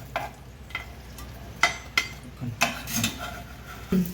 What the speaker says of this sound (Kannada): ಅದಕ್ಕೆ ಕಡಲೆ ಬೀಜ ಹಾಕೇನಿ.